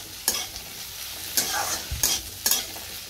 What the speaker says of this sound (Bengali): এখানে আমি একটু কালো জিরে, কাঁচা লঙ্কা, পেঁয়াজ দিয়ে আলু পটলের একটু তরকারি করছি